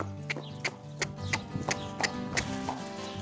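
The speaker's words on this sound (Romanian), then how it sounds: "După ce a trecut un minut, dăm drumul la cal." A horse being led at a walk after a hind-leg flexion test during a veterinary lameness exam, its hooves striking hard ground in a steady, evenly spaced clip-clop of about six clear beats against a faint background hum.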